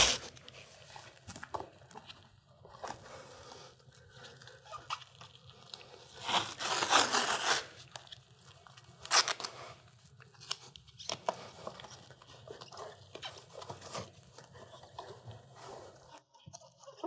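Tape pulled and pressed down to secure a head block during spinal immobilization of a patient, with ripping and crinkling bursts, a louder tearing stretch midway, close and otherwise quiet.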